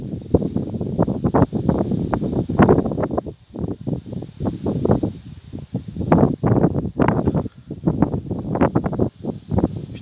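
Strong storm wind gusts of 75 to 100 km/h under an arcus cloud near Grenoble in the Alps, roaring and buffeting hard against the microphone in rapid, uneven bursts throughout, with no talking.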